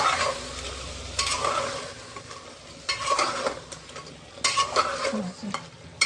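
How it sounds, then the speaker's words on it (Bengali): Mutton sautéing in a pan with ginger, garlic and green chili paste, a sizzle under vigorous, irregular stirring scrapes and clinks of a spoon against the pot, close and fairly loud, without speech. "এই পর্যায়ে এসে আমি আদা, রসুন, কাঁচা লঙ্কার একটা পেস্ট এর মধ্যে দিয়ে একটুখানি কষিয়ে নেব"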